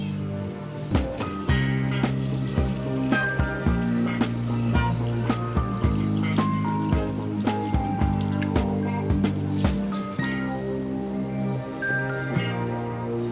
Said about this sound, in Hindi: और अब मैं इसके अंदर पानी डालूंगी।